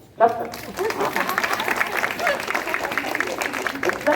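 A crowd at an Independence Day celebration in Bhavanipuram colony breaks into applause after a sharp onset, a dense clapping texture that continues under someone speaking.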